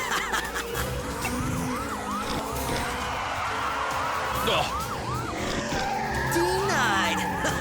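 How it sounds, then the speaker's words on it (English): A cartoon car brakes hard and skids, with squealing tires and revving engines amid a chase with sirens, while characters talk over the action. "Watch me hit the brakes,"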